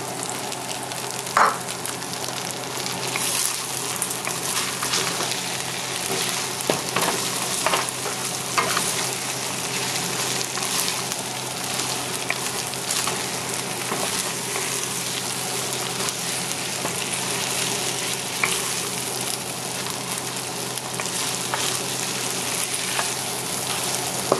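Shrimp and tofu stir-fry in a hot pan for pad thai, a continuous loud sizzle with occasional scraping and tossing from a spatula, steady throughout with no talking.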